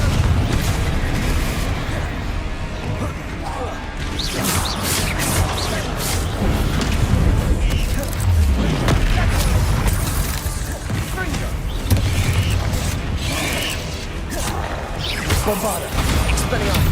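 Repeated Bombarda blasting spells in Hogwarts Legacy, loud booming explosions with crashing debris layered over constant game combat noise, with voices calling out spells throughout.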